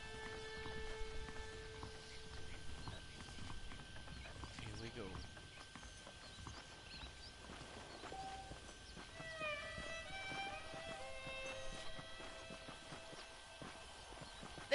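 In Red Dead Redemption, a horse's hooves clip-clop at a steady rhythm under game music and ambience, with a faint whinny, while someone says a few words at the start.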